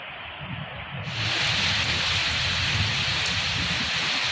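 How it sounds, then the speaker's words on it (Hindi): Heavy rain pours down in a storm over Madhya Pradesh, a steady broadband hiss that starts lighter and swells sharply louder after the first second, then holds as a dense continuous roar with no voices. "बारिश और तूफान ने बढ़ाई परेशानी"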